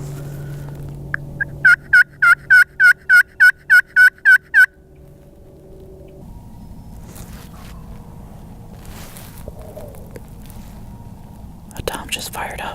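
A wild turkey tom gobbles in a quick burst of about ten rattling notes, fairly close and loud in a quiet outdoor hunting spot, followed by soft rustling and a faint whisper.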